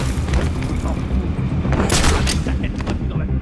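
A loud, booming explosion in the Batman Arkham Asylum video game on Nintendo Switch, a dense rumbling blast that fills the whole moment with crackling bursts layered through it and no speech.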